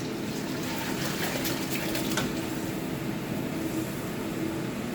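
Rinse water pours steadily out of a cooking pot while preparing Jamaican stew peas, a continuous gushing, splashing stream close by with no talk.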